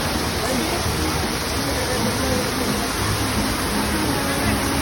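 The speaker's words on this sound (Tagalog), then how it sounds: "Sobrang lamig ng tubig dito at napakalinis. Dumadaloy siya agad." Cold, clean river water flows steadily at a river park, a close, constant broadband rush like a stream or small cascade with no breaks for the whole stretch.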